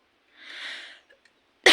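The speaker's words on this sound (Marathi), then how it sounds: "कारण खोकला" A woman with a chest cold gives a single breathy cough, close and isolated, followed by quiet and then a sudden loud burst of noise.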